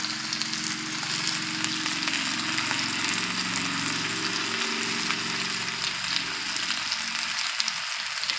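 Sliced potatoes frying in olive oil for a Spanish tortilla, a dense, continuous close sizzle while being stirred in the pan, no voices.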